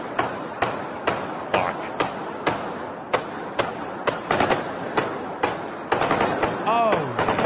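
Sharp gunshots from a played-back video ring out in a steady series of roughly a dozen evenly spaced reports, fairly loud and close, with a denser burst of rapid firing near the end.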